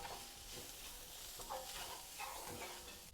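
Chili powder and ground coriander being stirred into a fish curry base in a pan, with a soft steady sizzle and occasional spoon scrapes, faint and close, with no voices.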